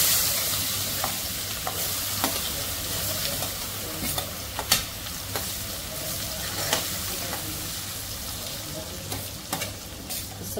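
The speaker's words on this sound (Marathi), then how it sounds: "कांदा छान परतून घेते" Chopped onion sizzles steadily in hot oil and butter with cumin seeds in a pan over a lowered flame, a constant frying hiss broken by occasional scraping stirs and taps, with no talking.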